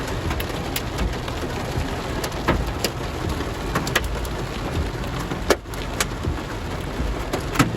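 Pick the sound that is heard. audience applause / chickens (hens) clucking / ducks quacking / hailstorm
hailstorm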